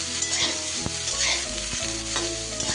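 Fish and broccoli frying in a pan while being stirred, giving a steady close sizzle broken by scraping strokes and knocks of the utensil against the pan, with no voices.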